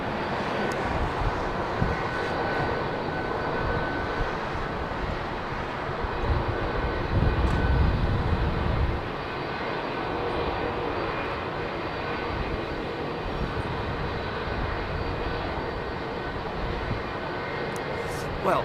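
An airliner taking off from runway 27R at London Heathrow roars steadily, swelling louder at its peak before settling into a sustained rumble, with voices talking underneath.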